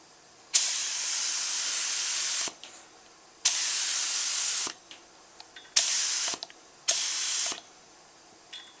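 Spray gun applying a light first coat of DuraCoat firearm finish onto an AR lower receiver: four loud, steady hissing bursts of about one to two seconds each, separated by short pauses with faint clicks.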